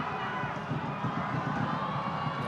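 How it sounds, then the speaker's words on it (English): Stadium crowd at a men's football match between the Philippines and Malaysia at the 2019 SEA Games, a steady loud roar of many voices filling the background without distinct peaks. "Crowd reacts to it as well."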